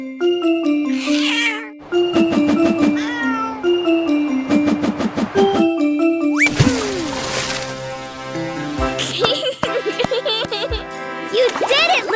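A cartoon kitten meows repeatedly in high, bright cries over a bouncy children's musical soundtrack with chimes and other voices.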